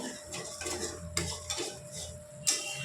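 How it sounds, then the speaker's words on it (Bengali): Spice masala sautéed in a pan for an egg curry, with repeated metal spatula scrapes and clinks against the pan at an irregular rhythm over a faint sizzle, close, no talk. "এবার মশলাটা ভালোভাবে কষিয়ে"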